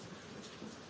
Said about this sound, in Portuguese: Agora a gente está aproveitando o sonzinho da chuva gostosa que está caindo aqui